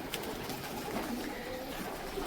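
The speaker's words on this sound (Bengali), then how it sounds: "আমাকে দেখে দেখো সব পায়রাগুলো ভয়ে ওপর দিকে উঠে যাচ্ছে" Pigeons in Saudi Arabia coo softly amid a low, steady background hum, the calls faint and blending together with no voices.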